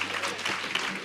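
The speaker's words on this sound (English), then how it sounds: "Can you clap it up for health and wellness?" An audience at a community outreach event claps in a short burst of steady applause.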